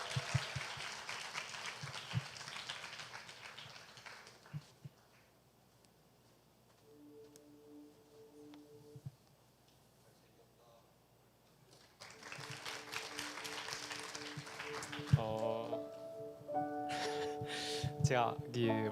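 An audience at a church leadership conference claps to welcome a speaker; applause bursts out at the start and returns louder later, with quiet stretches and music tones in between.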